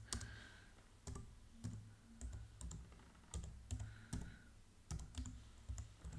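Typing on a computer keyboard, a quick irregular run of close, crisp key clicks in small bursts against a quiet background.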